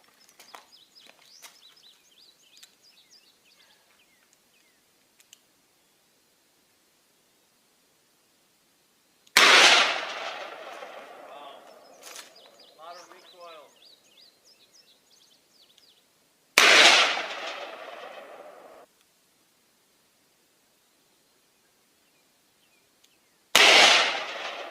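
A Smith & Wesson Model 629 Performance Center .44 Magnum revolver with a 2 5/8 inch barrel fires three loud, sharp shots into lumber outdoors, spaced several seconds apart, each followed by a short ringing decay, with faint birdsong between.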